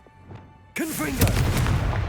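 A Confringo blast spell bursts in Hogwarts Legacy, one sudden loud explosive boom followed by a sustained crackling rumble, and a voice calls out briefly just before the blast.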